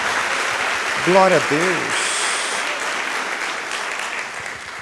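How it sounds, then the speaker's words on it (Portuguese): A church congregation applauds loudly and steadily for several seconds during a sermon. A voice briefly calls out over the clapping, which then continues at a lower level. "Dê uma salva de palmas a Jesus."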